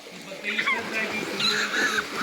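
Children swimming in deep water churn up a steady wash of splashing that runs throughout, close by and mixed with shouting and talking voices.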